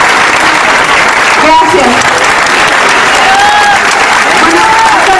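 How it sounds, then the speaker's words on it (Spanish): A live audience applauds loudly and steadily for a cultural coordinator, an engineer, at a Mexican folk dance show, with a voice speaking briefly over the dense clapping. "Un aplauso, por favor, ingeniero, si se pone de pie."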